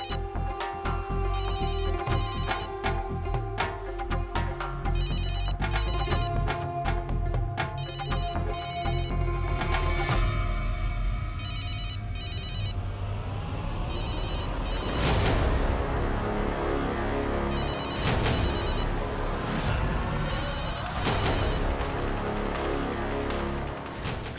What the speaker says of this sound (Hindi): अब ये फोन तो उठाना ही पड़ेगा।